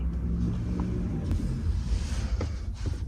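A passing car rumbles by, heard from inside a parked car in the evening, a low steady roar that swells briefly and fades.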